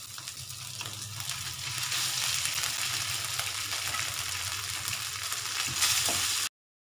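Cooked rice and moong dal go into a hot pan for khara pongal, giving a steady, close frying sizzle with soft stirring that runs evenly for about six seconds before stopping abruptly.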